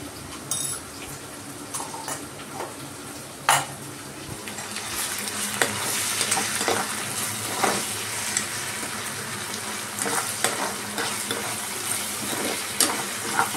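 Spice masala for a Bangladeshi-style basa fish dish sizzles steadily in a pan while being stirred, with scattered utensil scrapes and clinks against the metal throughout.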